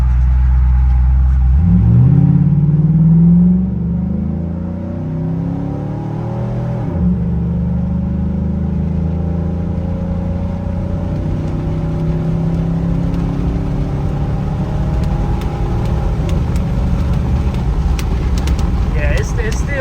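Car fitted with a 4L60E automatic transmission and Corvette servo accelerating down a straightaway, engine rumble rising in pitch through gear shifts, heard from inside with a rear window down, loud and close, with someone talking over it.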